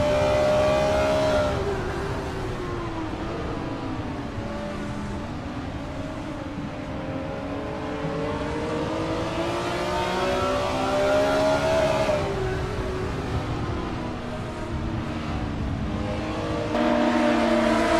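GTR Legends race cars in Assetto Corsa at Apricot Hill roar continuously, engines rising and falling in pitch through gear changes as the pack races by, loud and with no talk.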